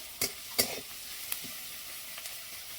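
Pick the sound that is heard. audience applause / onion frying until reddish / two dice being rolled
onion frying until reddish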